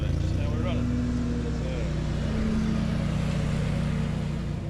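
Remote-controlled lawn mower with its blades spinning, set running in a field on steep slopes: a continuous near motor drone with a buzzing whine, steady throughout, while people talk over it.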